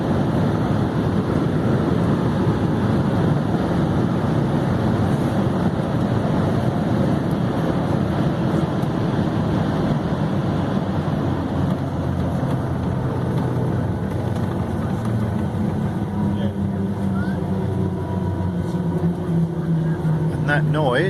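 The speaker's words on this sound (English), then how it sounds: "That noise were the engines being put into reverse to slow us down." Airliner engines roaring in reverse thrust just after touchdown at San Diego, heard from inside the cabin as a loud, steady broadband rumble lasting throughout, with a low whine emerging near the end.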